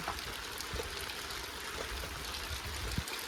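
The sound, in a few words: rain falling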